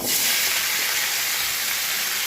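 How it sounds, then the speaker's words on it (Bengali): Fresh garden-picked malabar spinach hitting hot oil left from frying salted fish, a loud, steady hiss of sizzling that holds evenly throughout. "এবার এই তেলটাতেই পুঁই শাকটা দিয়ে দেবো এর মধ্যে"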